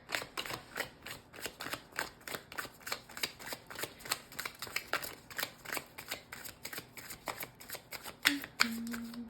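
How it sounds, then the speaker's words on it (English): Large tarot deck riffled and shuffled repeatedly up close, crisp rhythmic card flutters, ending with a couple of sharper taps. "I'm gonna shuffle over here just so I have more room with this"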